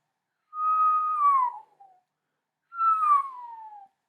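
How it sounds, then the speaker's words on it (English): Two clear whistles drawn on an in-breath, each holding a steady tone before sliding downward in pitch, separated by a short silence. "if you can do a whistle on an in-breath, if you want to lower that pitch"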